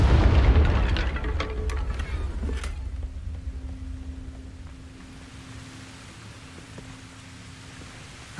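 A Confringo fire-blast spell in Hogwarts Legacy bursts with a heavy, rumbling boom that slowly fades into a low, hissing decay and a faint lingering tone.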